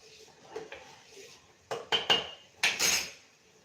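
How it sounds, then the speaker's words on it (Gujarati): A spoon stirring pasta in a pot of boiling water, a few sharp metallic scrapes and knocks against the pot, clustered toward the end over a faint bubbling background. "હવે આપણે ચમચો ફેરવી લઈએ એટલે પાસ્તા નીચે ચોટે નહીં"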